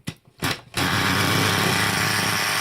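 A small nitro engine in a T2M Clio series 5000 RC car is pulled over in a couple of short bursts, then catches and settles into a loud, steady high-pitched buzzing idle, close by.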